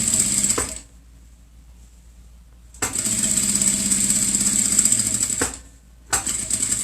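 A domestic sewing machine stitches in two loud, steady bursts separated by a pause, running fine thread with a size 11 needle for a backstitch at the end of a seam; no talking.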